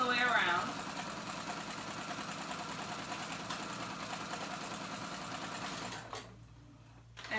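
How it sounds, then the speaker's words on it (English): A sewing machine runs a long basting stitch around a sleeve cuff, a steady rapid mechanical whir heard near and continuous for several seconds before stopping, with speech over it. "And so I'm doing just a long basting stitch"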